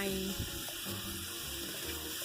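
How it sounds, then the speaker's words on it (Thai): Water and minced pork go into a small frying pan, giving a brief wet splash and soft sizzle, with a voice talking over it throughout. "ใส่น้ำลงไปในกระทะเล็กน้อย แล้วเราก็ใส่หมูสับลงไป"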